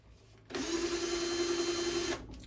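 A cordless drill clamped onto the shaft of a Weston electric tomato strainer whirs steadily at close range for about a second and a half, starting and stopping abruptly, with no talking.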